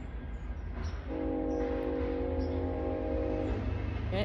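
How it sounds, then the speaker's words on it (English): A passing train blasts a loud, sustained multi-tone horn for about two and a half seconds over a low rumble of rolling rail cars, heard outdoors. "That's a train."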